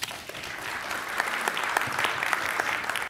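Audience applause for Ambassador Peters at a global health lecture event, a steady, dense wash of many hands clapping throughout at moderate distance, without voices.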